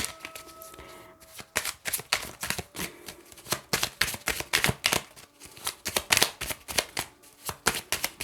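Angel oracle cards are shuffled by hand in rapid, crisp riffling bursts, close and fairly loud, with no talking.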